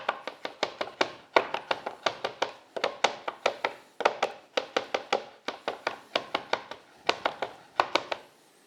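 A knife mincing meat on a cutting board chops in quick, steady bursts of sharp taps, with brief pauses between each run of strokes, close and clear without any talk.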